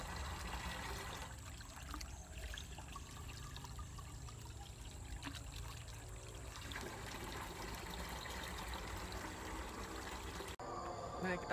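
Spring water trickling and pouring as it is collected at a sacred spring site, a steady continuous wash of running water with faint insect-like buzzing, ending abruptly near the close.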